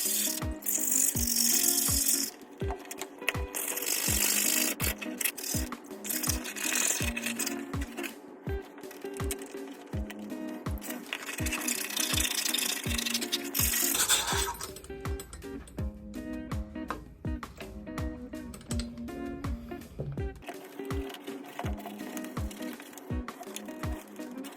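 A handbag scrubbed with a brush and then a toothbrush worked into its ridges, giving rapid rhythmic rasping strokes, close and fairly loud, with brief pauses and a change in texture partway through.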